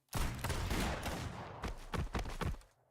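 A rapid burst of video game gunfire, several sharp shots in quick succession, loud and close, ending in a few separate cracks.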